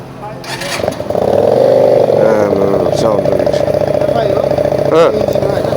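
A Benelli 302R motorcycle engine runs nearby at a loud, steady idle with a slight rise in revs, while someone talks over it throughout.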